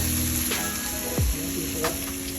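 Food stir-frying in a pan, a steady close sizzle with a few stirring scrapes and a brief low swooping sound in the middle.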